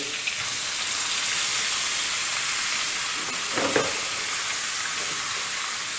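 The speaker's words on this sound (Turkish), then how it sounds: "Yağımız eridikten sonra şu gördüğünüz eti buraya boca ediyoruz." Beef poured into melted fat in a hot pan for lokanta-style kavurma sizzles and hisses steadily throughout, with a brief louder bubbling surge near the end; no talking.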